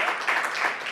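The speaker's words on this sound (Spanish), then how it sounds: "¡Aplauso para Fabiana!" Audience applause at a reading foundation event, a dense, steady burst of many hands clapping, moderately loud and brief.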